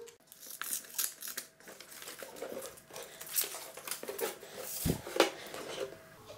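Plain paper sheet player boards from a board game are handled close up, producing crisp rustles, crinkles and soft flapping taps in an irregular sequence.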